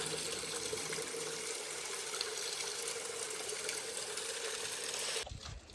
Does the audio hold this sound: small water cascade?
yes